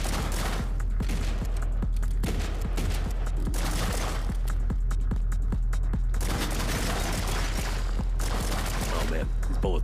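Bouncing bullets in Shotgun Cop Man rattle out as a dense, nonstop barrage of rapid gunshots and ricochet cracks, loud and continuous over a steady low rumble throughout.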